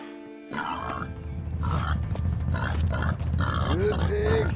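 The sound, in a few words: pig grunting in video game Red Dead Redemption 2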